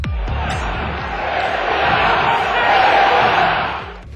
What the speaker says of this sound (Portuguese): Mas não foi o suficiente para evitar a vaia da torcida